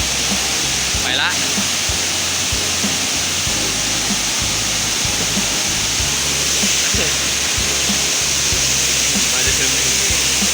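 Waterfall at Tad Xuang near Ban Tham, Laos: a loud, steady broadband roar of falling water fills the whole stretch, with a faint voice briefly audible beneath it.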